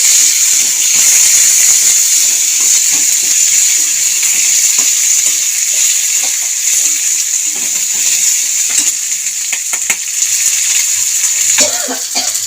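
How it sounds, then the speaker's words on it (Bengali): Whole peeled garlic cloves fry in a pan for a Bangladeshi cauliflower bhorta, a steady loud sizzle throughout with occasional stirring scrapes and clicks near the end. "গোটা গোটা রসুন ছাড়িয়েছি রসুনটা দিয়ে দেবো নেড়ে ছেড়ে ভাজতে থাকবো"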